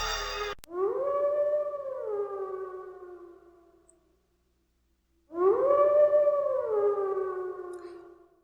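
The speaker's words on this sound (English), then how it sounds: "they also manage to have the same stock sound of a repeating dog howling" A stock video-game sound of a dog lets out two long, drawn-out howls separated by a pause, each rising then sliding down, clear and fairly close.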